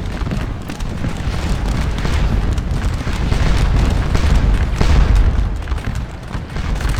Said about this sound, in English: we're going to aim at the Prussian skirmisher unit and start firing